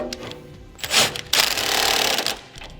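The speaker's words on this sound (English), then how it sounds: "I'm going to be using a 22mm socket to tighten it up." A power tool with a 22mm socket tightens a subframe bolt on a 2017 GMC Terrain during a base plate install: a short rattling, buzzing whir that rises, runs about a second, then stops, close and loud.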